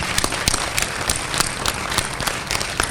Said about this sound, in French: Je prie donc les étudiants d'applaudir